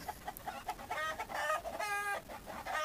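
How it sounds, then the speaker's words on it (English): Chickens cluck and squawk in short bursts, a rooster's harsh calls mixed in, somewhat distant and faint. "I had a rooster attacking another rooster"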